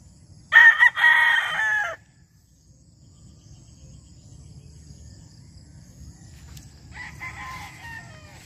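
White Boston chickens on a farm: a loud rooster crow close by near the start, then quieter clucking and insect chirps over a low background hum.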